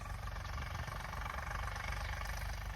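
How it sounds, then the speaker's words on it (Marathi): An old-model Eicher 485 tractor with a cultivator runs steadily in a field during light rain, its engine giving an even, continuous mid-range drone with a low rumble, no voices. "इथं बघा कोणता ट्रॅक्टर चालू आहे, आयशर"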